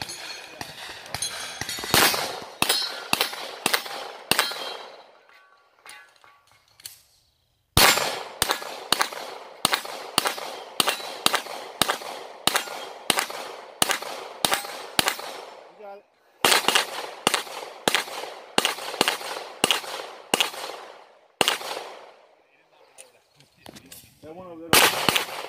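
Rapid 9mm pistol fire from a Glock 17 and a Smith & Wesson M&P Pro at steel targets, loud sharp shots in fast strings with metallic rings, separated by short pauses; voices are heard briefly near the end.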